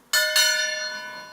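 A gong struck twice in quick succession, bright and metallic, its shimmering ring decaying slowly and clearly in near silence.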